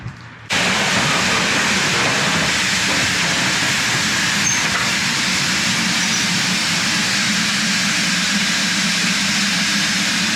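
A steam locomotive runs along a heritage railway line, its sound starting abruptly and then holding a steady loud rumble with a broad hiss of steam throughout.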